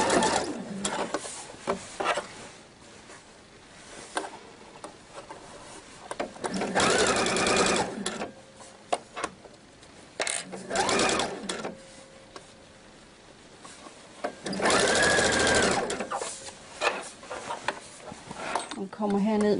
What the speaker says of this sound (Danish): Og her laver jeg lige sammensyningen på symaskinen.